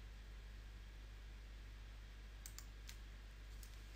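A few quick, faint clicks from a computer keyboard and mouse sound close by in a quiet room over a steady low hum, three or four light taps bunched near the end.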